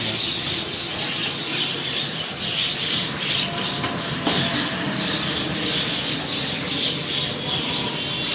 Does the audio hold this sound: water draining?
no